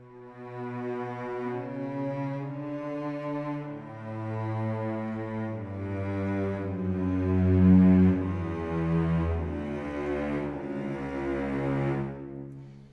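Long orchestral string section from a sample library, played as a slow sustained legato with tree and outrigger mics, notes swelling and overlapping in a rich continuous chord progression with no talking.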